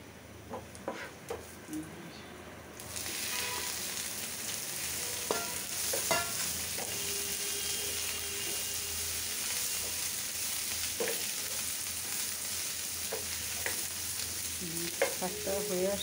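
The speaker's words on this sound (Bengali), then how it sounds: "এখন বাগারটা দিয়ে দিব।" Tempering crackling and sizzling in hot oil for bottle gourd greens, starting quietly, then bursting into a loud steady sizzle after a few seconds, with scattered stirring clinks and scrapes.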